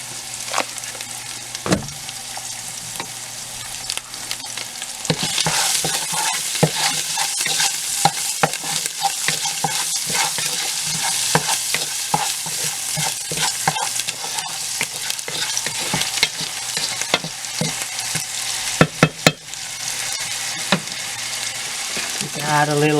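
Corn mutton fries in a pan with a continuous close sizzle, repeatedly broken by sharp utensil scrapes and taps as it is stirred, loud throughout with a hum under the opening seconds.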